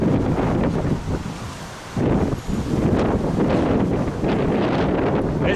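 Strong outdoor wind buffets the microphone in a continuous, heavy roar with low rumbling gusts that briefly ease, then surge back loud and steady, with no one talking.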